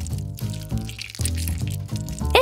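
A cartoon lemon squeezed into a fountain makes a string of squelchy liquid squirts and drips, with several bursts in quick succession set among musical tones and no clear talking.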